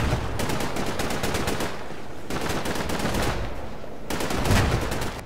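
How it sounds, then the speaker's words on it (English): Tanks on a ridge shell German positions in a World War II tactical war game, with rapid, loud bursts of gunfire and cannon fire repeating in several waves and no talk. "Both tanks arrive at the top of the ridge and begin shelling the German positions."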